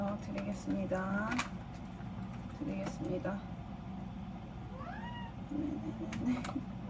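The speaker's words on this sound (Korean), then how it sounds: "웃기는 고양이" A cat meows several times in a row, short rising and falling cries at moderate distance, mixed with people chatting nearby and scattered household knocks.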